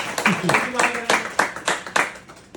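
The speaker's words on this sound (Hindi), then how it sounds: "इनके लिए भी ताली" Seminar audience at Fish Pond, Bhaderwah, clapping in a short burst of uneven, close handclaps while a voice carries on talking.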